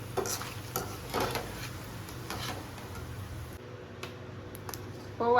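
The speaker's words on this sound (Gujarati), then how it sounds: "આવી રીતે આપણે થોડાક મકાઈના પૌવા તળી લઈએ." Corn poha frying in oil, with soft, steady crackle and intermittent stirring scrapes close by. A louder clatter comes at the end.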